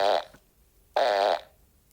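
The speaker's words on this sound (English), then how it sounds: "But they're real farts." Two real farts recorded and doubled up into a repeating alarm-like call, each a loud, buzzy, tonal blast of about a quarter second, the second one longer, separated by a short silence.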